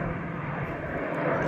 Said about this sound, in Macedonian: 3 ер трактори на дирекцијата